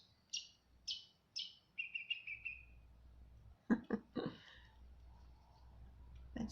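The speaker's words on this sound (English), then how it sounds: "Getting some lovely bird song there at the moment." Outdoor birdsong opens with a handful of clear, repeated chirps and a short trill, then gives way to a few sharp, close, percussive noises and quieter background sound.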